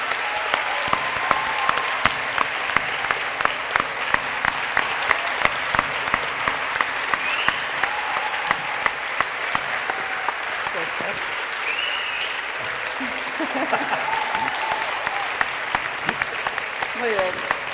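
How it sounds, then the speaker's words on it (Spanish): An audience at a Galician reading clubs' literary event applauds to welcome a speaker, with steady sustained clapping across the whole stretch and brief voices underneath. "Un forte aplauso para que nos lo aclare César Mallorquí."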